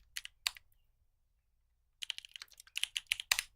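Typing on a computer keyboard while coding: two short bursts of keystrokes, a quiet pause of over a second, then a rapid, uneven run of close, crisp key clicks, with no voices.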